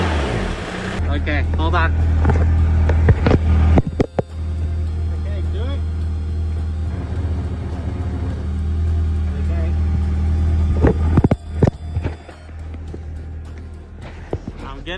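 A broken-down car's engine runs steadily close by with a low droning hum and a faint whine, while voices talk over it throughout.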